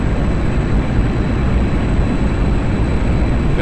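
A MiG-21 jet engine running at full throttle during takeoff in the DCS flight simulator, a loud, steady, broadband roar with deep low rumble that holds constant throughout, with no voices over it.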